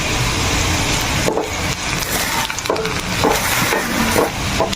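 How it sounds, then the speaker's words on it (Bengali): Cumin seeds tempering in hot oil for dal, a steady close crackling sizzle with scattered sharp pops throughout, no talking. "জিরা ফোড়ন দিয়ে দিচ্ছি।"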